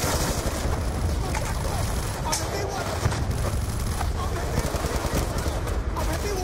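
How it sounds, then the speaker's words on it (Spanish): Machine gun fire in the video game Call of Duty: Black Ops 2 rattles in sustained, dense bursts, loud and close, with a busy battle din behind it. "¡Otra ametralladora!"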